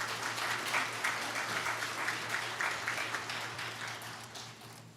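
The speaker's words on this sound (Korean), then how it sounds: "큰 박수로 환영해 주시기 바랍니다" A church congregation gives steady, dense applause to welcome the pastor, filling the hall evenly and fading slightly toward the end.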